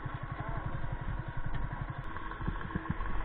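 A Yamaha R15 motorcycle idles close by, its engine giving a steady, even low throb of rapid regular pulses with a light mechanical clatter, with no talk.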